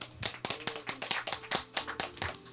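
Church congregation clapping together at a Sunday service, a brisk rhythmic round of claps with a low organ or keyboard tone sustained underneath, fairly close and steady for a few seconds.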